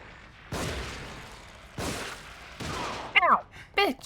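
Enemy gunfire in the horror video game The Evil Within: three sharp, loud shots about a second apart, each with a decaying tail, followed by a player's brief voiced cries.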